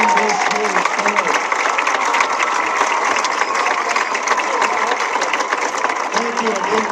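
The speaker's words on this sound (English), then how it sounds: "please again applaud our 2025 Royal Couple on this year's sport" Steady crowd applause and cheering for the homecoming king and queen at a high school football game, a dense continuous wash of clapping lasting throughout with faint voices mixed in.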